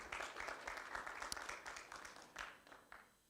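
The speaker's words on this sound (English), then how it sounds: "Round of applause, ladies and gentlemen, for Mr. Eugene." Faint, brief applause from a seated business-event audience greets a speaker, a thin patter of claps that swells and fades in a few bursts before trailing off.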